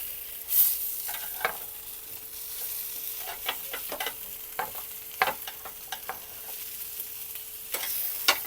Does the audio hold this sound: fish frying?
yes